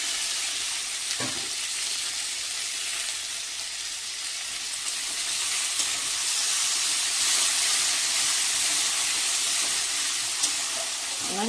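Tomatoes frying in a pan for a spiced soybean curry, giving a steady, dense sizzle and hiss that continues close and loud throughout, with a faint clatter near the start and end.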